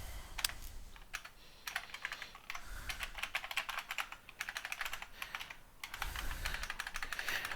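Rapid, close computer keyboard typing in irregular bursts with short pauses while C++ code is written, fairly quiet and with no voices.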